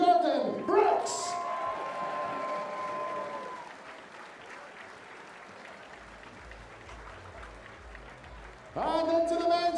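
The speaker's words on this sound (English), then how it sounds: "Massive round of applause as he leaves the stage" Crowd applause at a darts world championship swells briefly and then fades as a player leaves the stage, with a commentator talking over the clapping.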